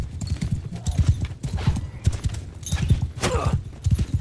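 Horse hooves gallop in a rapid, steady clip-clop rhythm during a battle in the video game Mount and Blade Bannerlord, loud and close, with a brief whinny-like cry partway through.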